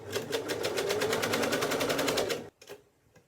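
A sewing machine stitches quilt cover fabric in one steady run of fast, even needle pulses for about two seconds, then stops abruptly and a few faint handling sounds follow.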